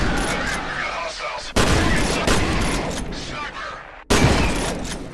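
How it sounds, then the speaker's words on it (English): Shotgun blasts in the shooter game F.E.A.R., loud close booms with long noisy tails, two sudden hits cutting in over a dense wash of gunfire, while someone talks over the action. "that's a whole ass shotgun in your face"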